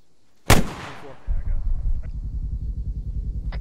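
A single sharp, loud launch blast from a rocket launcher during platoon training in a military game, followed by a long rumbling roar as the rocket flies off.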